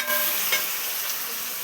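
A tomato curry simmers and sizzles in a pan, a soft steady hiss with a couple of light scraping stirs near the start, quiet and close with no talking.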